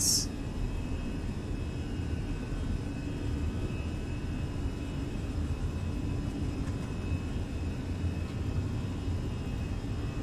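Airbus A320 engines spool at takeoff thrust in a flight simulator: a steady, loud, broadband roar with a low rumble that holds evenly throughout and has no talk over it.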